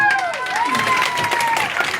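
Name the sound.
applause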